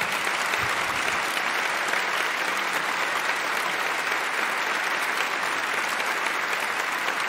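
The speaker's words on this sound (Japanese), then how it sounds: "学生たちにもう一度拍手をお願いします" Dense, steady applause from a concert audience at an annual concert's encore, a thick continuous wash of clapping from a full hall lasting several seconds.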